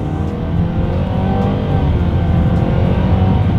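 A 2023 Nissan Sentra accelerating hard in sport mode, its engine a loud, sustained, steadily rising roar heard close from inside the car with no talking.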